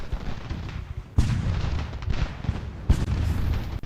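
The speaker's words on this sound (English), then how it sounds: "Excellent, their artillery sucks." Artillery fire in Ultimate General: American Revolution, with deep booms rumbling over continuous battle noise and two sharper heavy blasts standing out partway through.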